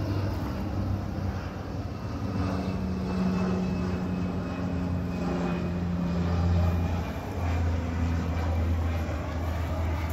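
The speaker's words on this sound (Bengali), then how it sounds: "এই বিমানগুলো পানি তো নামতে পারে।" A seaplane flies over the clear sea off Hulhumale in the Maldives, its engine a steady, distant drone that holds at an even level throughout.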